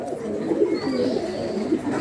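Crested yellow-marked pigeons coo softly and continuously at close range, low throaty murmurs overlapping with no voices.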